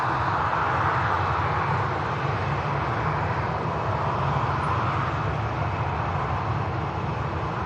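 A Qatar Airways airliner climbs out after takeoff from Manchester Airport, its jet engines producing a steady, broad roar that holds at an even, fairly loud level for the whole stretch with no voices.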